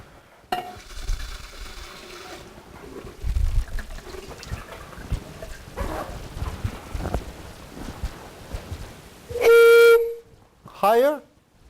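Water pours into a container in a lecture room, soft uneven splashing and gurgling at close range, followed by a sustained pure test tone and short rising tones.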